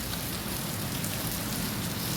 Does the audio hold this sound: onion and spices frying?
no